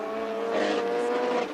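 A Formula 2 / Atlantic single-seater race car at Kyalami screams down the straight, a loud sustained high-revving engine note that swells slightly as it approaches.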